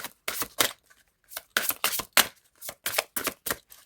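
Deck of cards being shuffled and cut for a tarot-style reading, a string of crisp riffling bursts and soft slaps in irregular rhythm, close and fairly loud with short pauses between.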